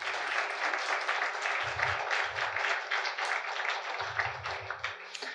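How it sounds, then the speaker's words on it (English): Audience applause at the close of an evening lecture on the World Microbiome Project, a steady wash of many hands clapping that holds for several seconds, with a low rumble rising and falling beneath it. "let's have a nice round of applause for the people who manned everything"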